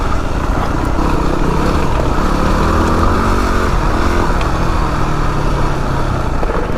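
A Yamaha WR250R dual-sport motorcycle runs steadily along a loose trail, its engine droning loud and continuous with wind rush and no pauses.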